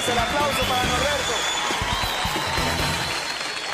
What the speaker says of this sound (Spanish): El aplauso para Norberto